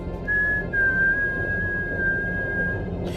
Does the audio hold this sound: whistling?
yes